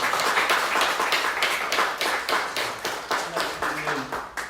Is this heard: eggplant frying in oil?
no